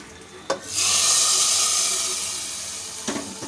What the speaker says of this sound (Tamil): இப்போ நம்ம தாளித்ததை அப்படியே இந்த கூட்டில் சேர்த்துருவோம்